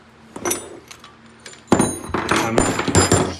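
Small metal parts spill and clatter while BBR springs are being installed on a Honda CRF125F dirt bike: a few light clinks and knocks, then a loud burst of jangling, rattling pieces close by.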